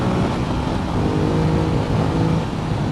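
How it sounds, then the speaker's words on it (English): A 2015 Ducati Multistrada 1200S, a 240 kg motorcycle, accelerating hard, with a loud, continuous engine roar close by that holds steady throughout. "it means that this 240 kilo bike just goes like a rocket"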